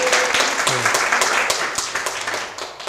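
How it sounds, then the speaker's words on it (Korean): An audience claps in a Korean persuasion lecture, a dense patter of many hands forming a short, lively burst of applause that tapers slightly toward the end. "박수 한번 보여주시죠"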